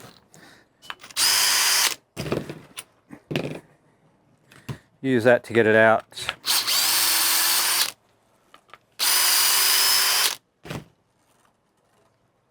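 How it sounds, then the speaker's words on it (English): A power drill backs screws out of a boat rudder during a rudder conversion, whirring in three loud, sustained bursts of one to two seconds each, with someone talking in the gaps between them. "So now that I'm confident that these are all going to come out, I'm just going to use the drill."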